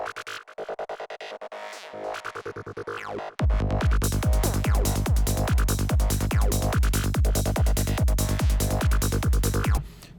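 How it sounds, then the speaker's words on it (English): A psytrance grid sound built in the Serum synth: after a sparse, stuttering opening, a loud driving pattern of rapid plucked and gated synth notes pulses in a fast, even rhythm, with a punchy low end on each beat. "today we're gonna see how we can do Psytrance grid sounds using Serum as our synth"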